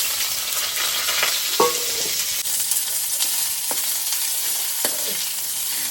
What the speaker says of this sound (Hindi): तो यहाँ पर प्याज़ फ्राई कर रहे हैं